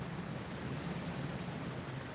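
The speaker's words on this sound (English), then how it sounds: "it's super windy here, so it is blowing the fire around quite a bit." Strong gusty wind buffets an outdoor fire pit chimenea, a continuous loud roar of wind noise pressing on the microphone with no voices heard.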